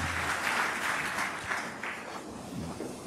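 Congregation applauding during a church worship service, a dense, steady wash of clapping from many hands that fills the room without a break.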